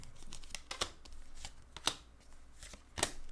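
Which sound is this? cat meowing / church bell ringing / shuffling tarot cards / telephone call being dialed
shuffling tarot cards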